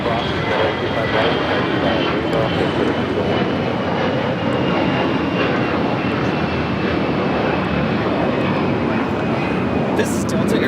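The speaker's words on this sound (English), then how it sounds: "This is Delta Airlines 413 taking off to Minneapolis on the A321." Delta Airlines A321 jet taking off from LAX, a loud sustained roar of engine noise that holds steady throughout, with faint radio chatter in the background.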